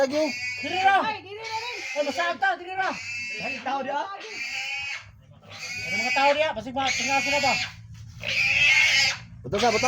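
Pigs on a farm grunt and squeal in repeated loud bursts, with people talking nearby in between.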